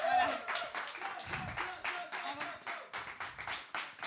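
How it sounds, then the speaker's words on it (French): An audience claps along at a live music show, with loose bursts of clapping that rise and fall in pulses while a voice talks over the top. "Applaudissez encore"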